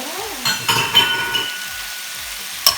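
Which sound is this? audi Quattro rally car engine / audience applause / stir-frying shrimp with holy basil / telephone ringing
stir-frying shrimp with holy basil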